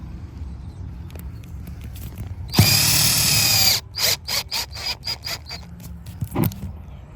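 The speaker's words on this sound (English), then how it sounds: "We use this drill." A power drill whirs in one loud burst of about a second while drilling inside a punctured tire for a plug repair, followed by a series of short clicks and knocks as it's handled nearby.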